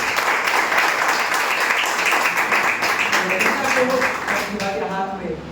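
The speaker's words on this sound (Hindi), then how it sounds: "ये जोरदार तालियां बजाएं।" A church congregation at a child dedication service applauds in a dense, steady wash of clapping, with a voice speaking over it toward the end.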